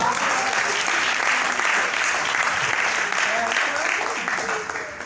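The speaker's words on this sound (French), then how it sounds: "Applaudissez." Loud, dense applause from an audience at a stand-up comedy show, sustained across the whole stretch and tapering slightly at the end.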